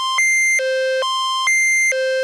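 A Nokia 3310 plays composed ringtone notes in a high octave: clean electronic beeps alternating between two pitches in a steady, loud repeating pattern, alone with no talk.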